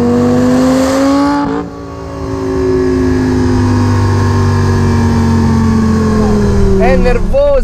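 Lamborghini Superleggera engine droning and rising in pitch while driving, loud and close, with a brief dip as the revs drop before climbing again and a voice speaking over the engine.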